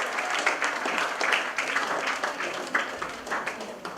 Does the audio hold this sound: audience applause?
yes